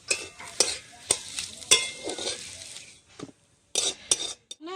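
Potato filling for bread chop fries in a pan, with steady sizzling broken by repeated scraping stirs of a spoon against the metal, close and fairly loud, pausing briefly near the end.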